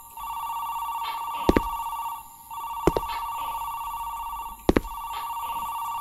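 A telephone rings in repeated bursts with short pauses between them, fairly loud and close, during a spooky night-time exploration of a supposedly haunted place in Indonesia, with a few sharp knocks heard between rings.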